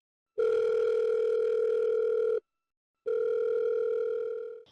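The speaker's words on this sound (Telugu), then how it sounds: "ఒకసారి కాల్ చేస్తాను, చేయండి మేడం." Telephone dial tone heard while placing a call, a steady loud tone that holds for about two seconds, breaks off briefly, then resumes and begins to fade, with no voices.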